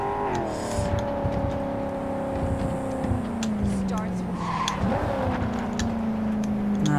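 A car engine in the video game Cyberpunk 2077 drones steadily, its pitch shifting as the vehicle drives and changes speed, with small clicks and bumps over a constant motor hum.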